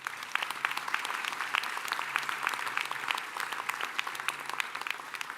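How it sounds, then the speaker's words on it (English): Audience applause at a culinary institute commencement ceremony for the commencement committee, a steady, fairly quiet wash of many hands clapping across the room. "How about a round of applause for all of them?"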